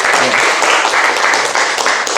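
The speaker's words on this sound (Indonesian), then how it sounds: "tepuk tangan untuk Fahri dulu" Dense applause fills a classroom for a student named Fahri during a teaching practice session, a steady wash of many hands clapping at close range with a faint voice underneath.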